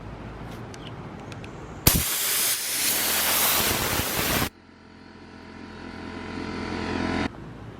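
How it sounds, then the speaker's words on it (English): Compressed air is blown into a bicycle handlebar grip to slide it onto a department store bike, one loud sustained hiss about two and a half seconds long, then a softer continuous airy hiss that stops abruptly. "the trick to getting grips on is to use compressed air"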